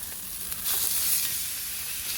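Steak sizzles steadily in a cast iron skillet just after flipping, a constant bright hiss close up with a slight swell partway through and no talk.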